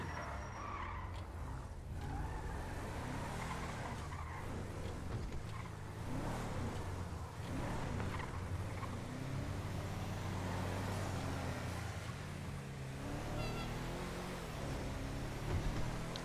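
A car skids with a sustained, loud rumbling engine roar and tire noise that continues steadily throughout, with no talk over it.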